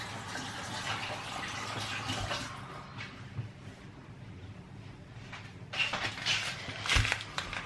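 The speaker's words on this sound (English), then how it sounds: "let me wash this off my hand." Water runs from a kitchen tap as hands are rinsed, a soft, continuous splashing hiss that swells briefly near the end, heard close and fairly quiet with no talking.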